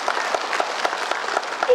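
A crowd claps at a gathering in Tripura, a brisk, steady patter of applause heard close and moderately loud across a short stretch, with a voice briefly underneath.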